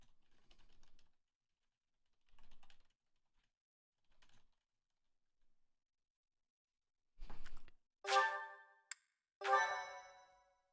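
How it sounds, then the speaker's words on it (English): Someone types on a computer keyboard in short, scattered bursts of soft clicks with quiet gaps between them. Louder, sharp tonal chimes follow near the end. "Don't mind like the typing ASMR."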